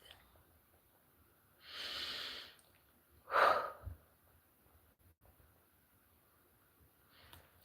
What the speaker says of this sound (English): I need you to take a deep breath and breathe.